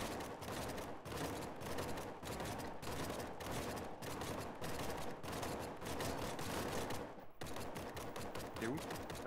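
Dense rapid gunfire from an enemy shooter in the survival game The Front, a loud continuous fusillade of closely spaced shots across the whole stretch, with a brief dip near the end and a voice talking underneath.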